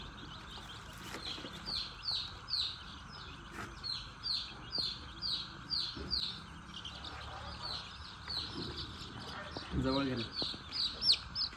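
Native country chicks peep in repeated high, rapid chirps during LaSota vaccination, a steady flock chorus close by with someone talking briefly over it.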